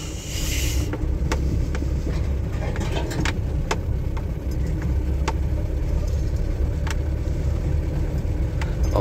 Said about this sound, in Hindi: ये गाड़ी बढ़ाई आगे।